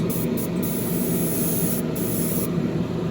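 Spray gun hissing steadily as paint goes onto model car bumpers inside a spray booth, a continuous broadband rush running the whole time with the booth's ventilation, no talking.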